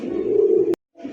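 A male pigeon of a local or imported breed gives a low, sustained coo close by, then breaks off abruptly before a softer resumption.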